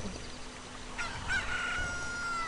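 A rooster crows at daybreak in a Zelda video game, a single drawn-out crow rising and holding over a steady game background hum, moderately loud with no voices.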